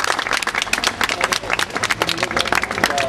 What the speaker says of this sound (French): je voudrais qu'on applaudisse deux élus qui sont venus